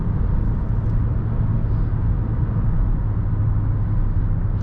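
A 2020 Mazda CX-5 cruising on the road, a steady low engine and road rumble heard from inside the cabin, even and unbroken with no voices.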